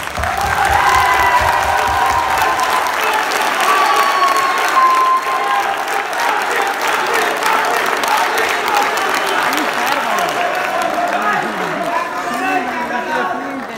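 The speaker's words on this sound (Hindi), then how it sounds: "यार आपके लिए भरपूर ताली।" A comedy-show audience applauds at length, a thick continuous patter of clapping mixed with crowd noise and some cheering, steady and loud for over ten seconds.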